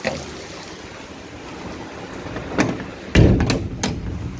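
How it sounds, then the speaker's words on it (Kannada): Heavy rain and strong wind lash a house, with water seeping in under the door; a steady, dense rushing wash runs throughout, swelling into louder gusty bursts near the end, with no voices. "ಮಳೆ ಜೋರ್ ಐತಿ"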